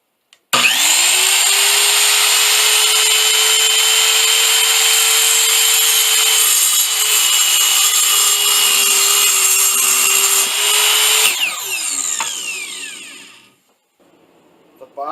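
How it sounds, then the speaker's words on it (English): A power saw cuts wooden boards to size for a wooden chest, one long loud continuous whine that holds steady for about eleven seconds, then spins down and fades out. "I start by cutting the boards for the body of the chest to size."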